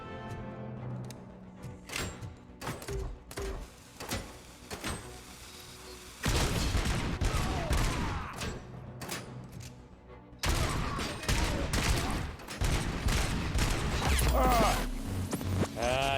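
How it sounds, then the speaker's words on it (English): Gunfire in the shooter game Robocop: Rogue City, rapid sharp shots in bursts over a mechanical game soundscape, growing denser and louder in the second half with heavy layered action sounds. "who's shooting me?"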